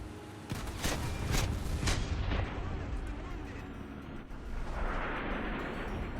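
In the War Thunder tank game, a run of heavy booming shots fired at a tank cracks out loud in the first seconds, then gives way to lower rumbling battle noise.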